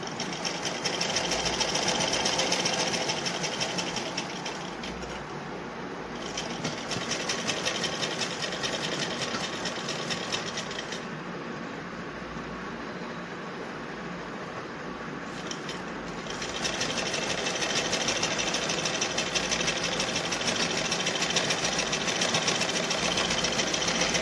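Close, steady whir of a sewing machine stitching the layers of a homemade fabric face mask, running continuously with slight speed dips and surges.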